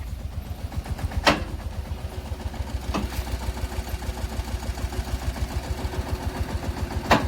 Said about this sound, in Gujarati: જો ઉલાડિયું થાય છે હવે.